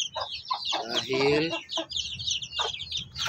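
A hen clucks in repeated short bursts, close and fairly loud, with someone talking over part of it. The hen is one that pecks and eats feathers.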